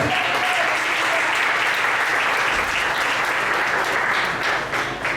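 A church congregation applauds during a sermon, a dense, steady wash of clapping from many hands filling the room for several seconds without pause.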